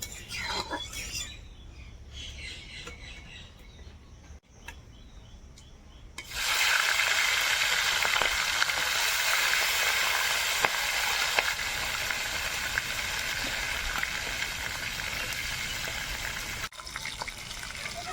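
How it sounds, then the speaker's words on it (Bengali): Bhola fish fry in hot mustard oil in a wok, a loud broad sizzle that starts suddenly after some quieter kitchen handling and continues steadily, with faint speech at times. "এই মাছগুলো ভাজা হয়ে গেছে, তুলে নিই, তারপর বাকি মাছগুলো ভেজে নেব"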